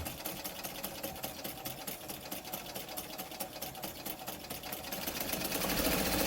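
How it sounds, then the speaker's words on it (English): A White 565 sewing machine stitching, with a fast, even mechanical whir and rhythmic needle clatter heard close up and steady, rising slightly in loudness toward the end. "you can change your stitch width as you're sewing"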